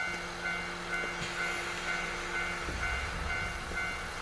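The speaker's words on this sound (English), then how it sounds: "Here's the train." Train in the video game Nostalgic Train, heard as a steady rolling rumble with sustained tonal hums and a faint repeating chime, with a low thump partway through and no voices.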